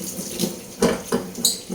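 Hot water runs from a kitchen tap in short, uneven gushes and splashes, moderately close, with no voices.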